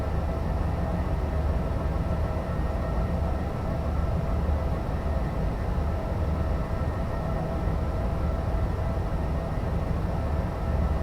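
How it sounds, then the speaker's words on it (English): Expert DB BR 101 electric locomotive on an Intercity run between Leipzig and Dresden in a train simulator game, giving a steady, loud rumbling drone of motors and rolling wheels with no breaks across the stretch. "I do love the running sounds in the Expert 101."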